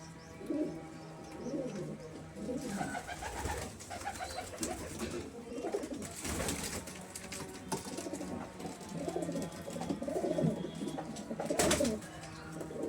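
Giribaz and Metrash pigeons at a bird sale coo near at hand, a series of low throaty rolling calls repeating one after another, with faint background noise.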